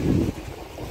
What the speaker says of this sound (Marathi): लाट खूप जोरदार लाटत आहेत